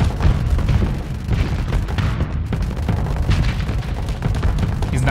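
Missiles explode in rapid succession during a Starsector space battle, a loud, dense rumble of booms and gunfire-like bursts that runs continuously throughout.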